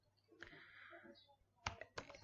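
Command being typed on a computer keyboard, a handful of quiet, close key clicks in short bursts, preceded by a faint murmur.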